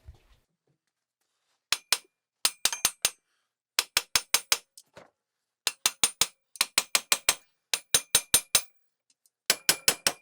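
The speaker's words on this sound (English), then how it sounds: "I'm going to tap the front of the diff with mallet and see if I can get it to slide back" A mallet tapping the front of a car differential on a V8 drift Subaru build, sharp metallic knocks in quick bursts of three to five, clear and close, separated by short silences.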